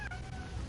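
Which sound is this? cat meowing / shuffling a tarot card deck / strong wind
cat meowing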